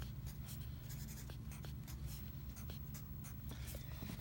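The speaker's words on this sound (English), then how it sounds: "going to write our date" A pencil or pen scratches out a date by hand at a Montessori math lesson, a quiet, close, continuous scribble of short strokes heard alone.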